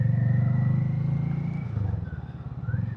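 A Hero Hunk 440 motorcycle ridden slowly, a moderate low engine thrum with a pulsing beat that eases and swells, while faint higher tones from passing traffic drift in the background.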